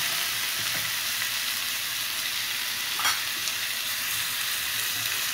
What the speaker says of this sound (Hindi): ये हमारे बहुत ही शानदार लेग टिक्का जो हैं वो फ्राई होते जा रहे हैं।